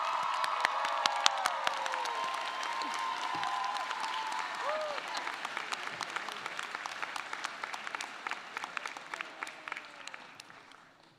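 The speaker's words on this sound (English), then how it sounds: "if you are grateful for the Rhodes student organizations on campus, please give a round of applause" Steady applause from a large audience at a Rhodes College baccalaureate ceremony, honoring student organizations; dense clapping with some cheers and whoops, slowly fading over about eleven seconds.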